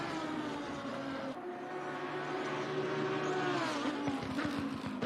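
A GT race car in a Suzuka sim racing esports event, the engine note holding steady through the corners and then rising as it accelerates, with faint tire noise, continuous and moderately loud.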